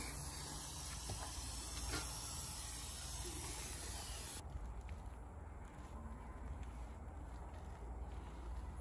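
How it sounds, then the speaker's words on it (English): An aerosol spray can hisses continuously, spraying off a Honda CRX Si B16 cylinder head part, a steady close broadband hiss whose tone shifts partway through, with no talk over it. "You gotta spray it off. You gotta spray it off."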